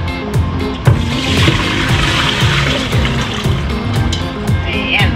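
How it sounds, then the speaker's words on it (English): Bamboo shoots for adobong labong are rinsed in a kitchen. Close, continuous running and splashing water fills the clip, with faint voices in the background. "I think we wash it really good now."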